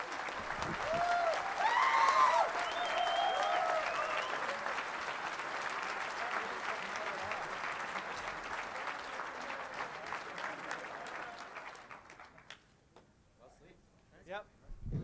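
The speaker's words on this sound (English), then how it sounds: "Let's give them a round of applause" A large crowd at a hacking conference closing ceremony applauds the capture-the-flag contest winners, with loud, dense clapping mixed with cheers and a few whistles, gradually thinning out and fading before a voice resumes at the end.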